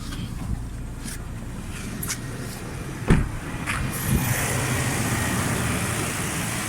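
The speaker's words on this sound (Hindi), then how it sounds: "और कंप्रेसर बाहर ऑन हो गया।" A steady mechanical hum and whoosh of a 2018 Toyota Fortuner's air-conditioning compressor, with a few clicks, growing slightly louder partway through, during refrigerant refilling after a leak repair.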